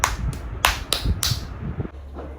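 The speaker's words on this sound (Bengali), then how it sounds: "হাততালি মারে এবার" A few sharp hand claps at home, spaced irregularly over about two seconds, close and fairly loud, followed by quiet room noise.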